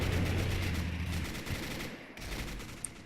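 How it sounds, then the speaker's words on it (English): A Panzer IV's guns shred a machine-gun position in the WWII strategy game Men of War: Assault Squad 2, a dense, continuous rattle of gunfire and battle noise with a sharp crack near the end. "MG position over here is getting shredded by the Panzer IV."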